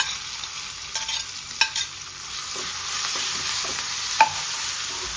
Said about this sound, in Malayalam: ഇനി നമുക്ക് ചതച്ച് വെച്ച ഉള്ളി, വെളുത്തുള്ളി, കരിയാപ്പിലൊക്കെ ആദ്യം ഇടാം